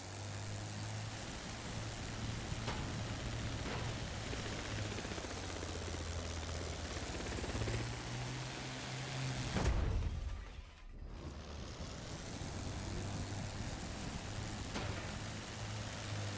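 Plane engine from The Crew 2 racing game drones steadily at moderate loudness with a low hum, briefly swelling into a louder whoosh about two-thirds through before settling back; no talking.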